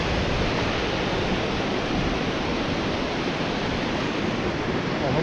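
Rushing mountain river water on the Kheerganga trek in the Himalayas, a loud, constant broadband roar near a wooden footbridge, unbroken for the whole stretch.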